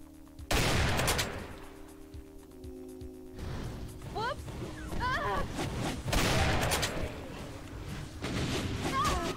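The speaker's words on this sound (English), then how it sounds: "Ooh, I got a shotgun." Shotgun fire in Smooth Doom with the Demon Steele mod: several loud blasts and crashes, mixed with other game sounds.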